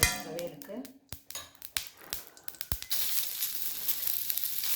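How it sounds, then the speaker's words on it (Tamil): Grated beetroot sizzles in coconut oil in a pan for a South Indian thuvaiyal, with sharp utensil clinks and stirring scrapes early on, then a steady close frying hiss. "பீட்ரூட் வதக்கிறதுக்கு நாங்கள் தேங்காய் எண்ணெய் தாங்க யூஸ் பண்ணுறோம் துவையலுக்கு."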